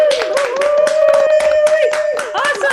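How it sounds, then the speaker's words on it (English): An online concert audience claps through their microphones, a short burst of overlapping applause with a steady tone and some voices mixed in. "give a nice round of applause"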